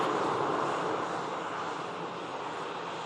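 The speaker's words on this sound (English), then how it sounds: "on the taxi out, we have another Ryanair aircraft." A Ryanair jet taxiing out at an airport, a steady distant engine roar with a broad whooshing rumble that holds even and fades slightly across the stretch, no voices over it.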